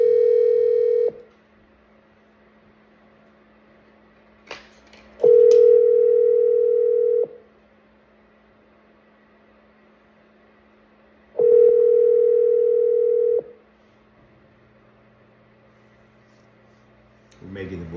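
Ringback tone repeating while phoning a for-sale-by-owner home seller: steady, clear tone bursts of about two seconds each, separated by several seconds of quiet, with a faint low hum beneath.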